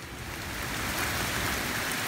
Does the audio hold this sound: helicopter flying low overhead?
no